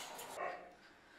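A mother dog being bathed whimpers once briefly and softly, a short thin whine over quiet background.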